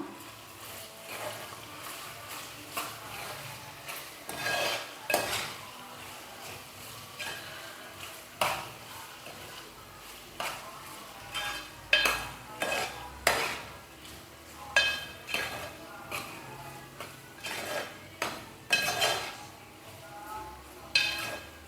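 Mutton kheema being stirred in a pan with salt, giving repeated scraping and clinking strokes of a spoon against metal in an irregular rhythm, fairly close and moderately loud, with no talking.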